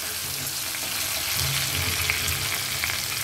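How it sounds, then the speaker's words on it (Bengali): Green and dried chillies fry on a low flame in a pan for a prawn dish, giving a steady, soft sizzle that runs evenly throughout without speech. "এবারে এর মধ্যে দিয়ে দেব 2 রকমের লঙ্কা, কাঁচা লঙ্কা দিলাম, শুকনো লঙ্কা দিলাম। এটা কিন্তু একদম লো ফ্লেমে আমি রান্নাটা করছি।"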